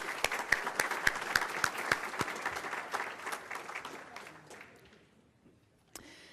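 Audience applause for event sponsors at a lecture, a burst of hand clapping that fades out toward the end, with one last sharp clap.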